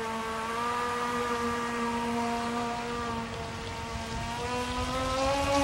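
A Banggood jet drive pushes an RC boat across the water, its high whining motor holding a steady, loud buzz with stacked tones that shift slightly as the throttle changes.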